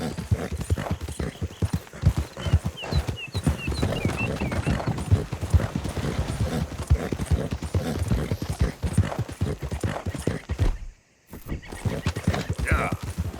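Continuous rapid hoofbeats of a galloping horse in Red Dead Redemption 2, loud and close, with a brief whinny and a short gap near the end.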